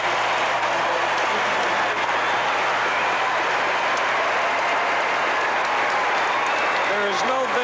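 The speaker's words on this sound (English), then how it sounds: "There is no venue where the applause is as explosive as here" Crowd at an Olympic equestrian show jumping venue breaks into loud, explosive applause, a thick unbroken roar of clapping from a large audience, with a commentator's voice faintly underneath.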